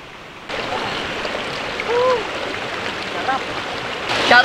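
A river flows at a secret spot during a solo motocamping trip. It makes a steady, close rushing and burbling wash that swells briefly midway, with a faint voice underneath.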